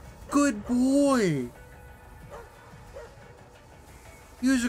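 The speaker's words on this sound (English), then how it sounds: "There's a dog." A dog in the video game Astral Chain gives a few short, loud bark-like yelps, clustered at the start and again at the end, with quieter game ambience in between.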